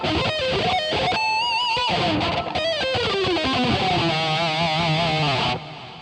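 Distorted electric guitar through a Line 6 POD digital amp modeler, with a digital, slightly squeaky fizz, playing sustained bent notes and chords for several seconds, loud and close, no talking.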